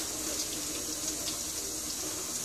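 Tap water runs steadily over plastic milk storage bottles to melt the fat off their sides, a constant close splashing stream with no pauses.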